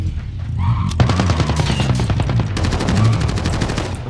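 Rapid automatic gunfire rattles through a Warzone firefight: dense bursts of close, loud shots keep repeating for about four seconds, with brief gaps between volleys and no talking.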